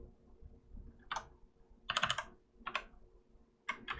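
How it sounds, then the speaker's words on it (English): Computer keyboard being typed on in four quick bursts of clicky keystrokes, close by, with short pauses between and no talking. "If I can type it right."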